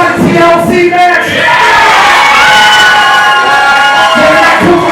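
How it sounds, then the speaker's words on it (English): Wrestling arena crowd at an independent pro wrestling show chants loudly and rhythmically, swelling into sustained cheers and yells that fill the space close and continuously throughout. "A crowd chanting for all three."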